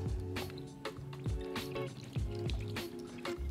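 Worcestershire sauce for a smoky barbecue glaze is poured into a bowl in quick, rhythmic glugs and drips, close and fairly loud, with no one speaking.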